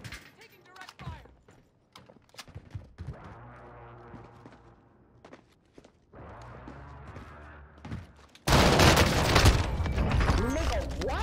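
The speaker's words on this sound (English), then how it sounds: "taking direct fire." Heavy gunfire in the Call of Duty Cold War Warzone video game, with scattered thumps and mechanical clatter early on, then a sudden loud, sustained barrage near the end.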